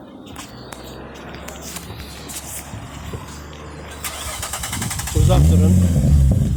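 A 368 HP Nissan 350Z sits idling with a rough, low rumble under brief talk, then its engine revs sharply and loudly near the end, a deep throbbing roar close by.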